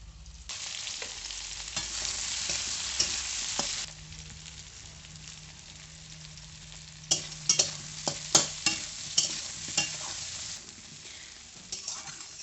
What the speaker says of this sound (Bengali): এবারে আলু আর কাঁচকলা ভেজে নেব